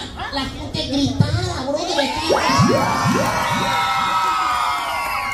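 A live comedy show audience shouts, whoops and cheers in rising, overlapping yells, building into a sustained loud roar of crowd noise.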